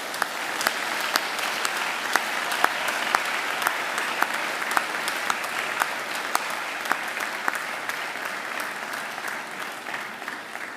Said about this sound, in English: now to give them the round of applause they deserve